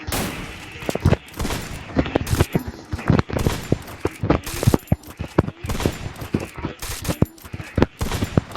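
Rapid bursts of video game gunfire, sharp automatic shots with short pauses, loud and close throughout.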